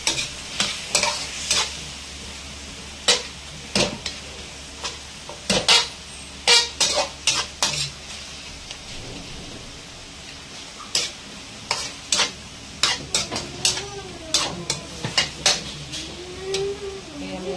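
Tomatoes fry and sizzle in a pan as a utensil repeatedly scrapes and clanks against the metal in irregular bursts, with a steady sizzle underneath; close and fairly loud, no talking.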